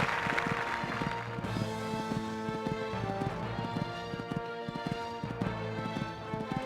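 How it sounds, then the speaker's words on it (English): Horse hooves clip-clop in a steady, quick cantering rhythm at a beginner equestrian championship, close and continuous throughout with faint background sounds. "Cantering along this part now."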